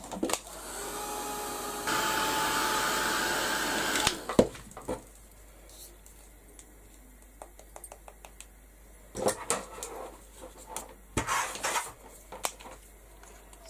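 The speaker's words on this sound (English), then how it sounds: "now I'm going to give this a quick blast with the heat gun" A heat gun blows hot air in a steady, loud whooshing hum for about four seconds, then stops, followed by scattered clicks, taps and handling noises at a mixed media craft bench.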